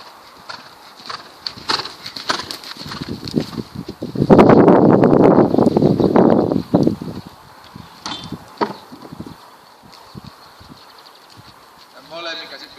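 Horse hooves thud on an arena surface during a riding training session, a steady clip-clop rhythm that grows louder and denser for a few seconds midway, with a coach's voice talking over parts of it.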